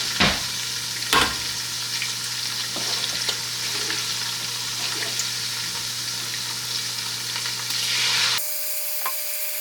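Bell peppers frying in a pot over medium heat give a continuous close sizzle with a few sharp knocks of a spoon, ending abruptly as the sound cuts to near quiet.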